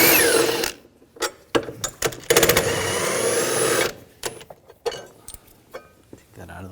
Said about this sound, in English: 15mm socket, take these bolts out.